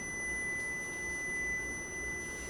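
A microwave oven beeps to signal it is done after steaming green beans: a steady, high electronic tone that holds unbroken over a quiet room hum, with no talk.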